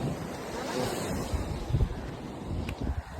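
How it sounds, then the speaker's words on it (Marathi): Rough, churning sea surf breaks below a coastal fort in the Konkan, a dense, continuous roar mixed with wind buffeting the microphone, with a few heavier low thumps of surging water. "तुम्ही बघू शकता इथं समुद्र खूप भयंकर खवळलेला आहे."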